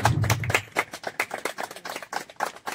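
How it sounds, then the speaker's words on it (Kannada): Scattered hand clapping from a modest crowd at a village gathering, quiet and uneven, with irregular claps and no strong unified burst. "ಜೋರ ಚಪ್ಪಾಳೆ ಬರಲಿ."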